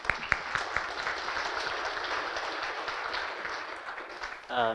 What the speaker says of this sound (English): Give Bonnie a round of applause.